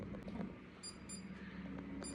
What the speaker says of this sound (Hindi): अभी आवाज़ देख रहे होंगे बीप बीप हो रही है, इसका मतलब कि रूम आपका दरवाज़ा प्रॉपर लॉक नहीं हुआ